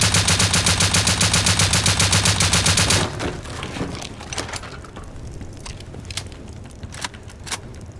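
Rapid automatic gunfire with explosive ammo hammers an armored door in Rust, a dense loud burst for three seconds, then scattered sharp impacts and crackles trail off.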